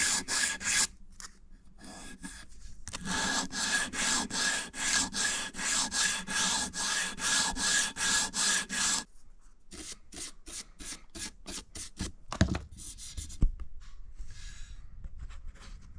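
A file rasps back and forth across the scallops of a wooden Stratocaster-style guitar neck in rapid, even strokes, a pause, then a second run of quicker, lighter strokes with a couple of knocks near the end.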